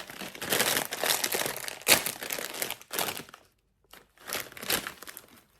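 Crinkly plastic packet of peppery baked German snack being torn open and handled up close, bursts of sharp crackling rustle with a couple of brief pauses, no talking.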